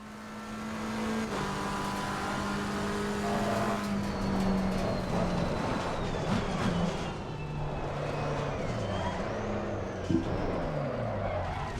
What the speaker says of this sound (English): We get to also hear the car.